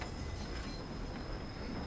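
A train in the Train Sim World 2 video game rolls slowly into a station in winter, giving a steady, even rumble of wheels on rail with a thin high squeal running through it, with no talk.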